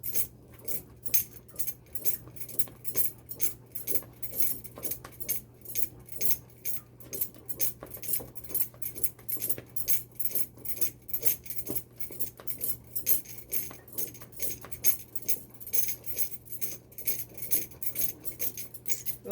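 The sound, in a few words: stirring fufu in a pot with a wooden spoon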